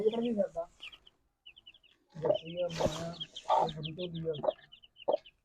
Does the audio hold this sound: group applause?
no